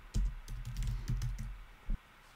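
Keys clatter on a computer keyboard while a plugin name is entered, a burst of close, quick clicks with a couple of louder strokes, heard alone with no voices.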